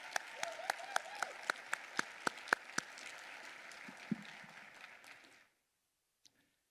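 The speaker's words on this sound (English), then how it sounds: "Let's give Becca and her team an amazing round of applause." A conference audience applauds, dense clapping with a few sharper close claps over about five seconds, then it cuts off into near silence with one faint knock.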